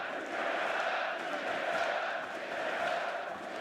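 A large esports arena crowd at a League of Legends grand final chants in a steady, massed roar that swells and dips, heard from a distance behind the commentators' booth.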